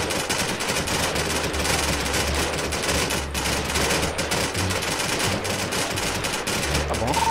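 Rapid gunfire in the video game GTA 5 roleplay, a dense rattling stream of close, loud shots running continuously with little pause, with game noise underneath.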